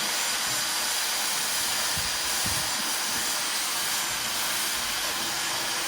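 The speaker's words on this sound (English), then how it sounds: "first I like to put my hair over just like this and just blow dry it." A hair blow dryer blows continuously through the hair, making a steady, loud, airy hiss that stays unchanged for several seconds with no speech.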